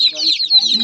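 Newly bought baby chicks chirp in high, close peeps over a brief moment, with a few fainter lower tones beneath.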